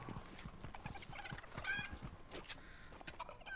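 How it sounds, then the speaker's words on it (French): A chicken in the video game Fortnite clucks faintly in the background among scattered game sounds. "Ah non, c'est un poulet."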